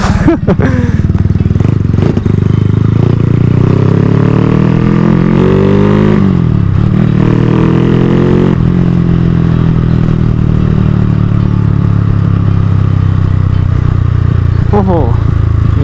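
A motorcycle fitted with new budget tires is ridden on the road, its engine rising and falling through revs, loud and close, with wind and rattling over a steady rumble.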